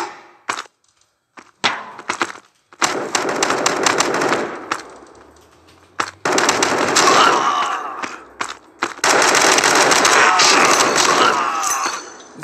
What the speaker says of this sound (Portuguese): Headshot de pistola na cara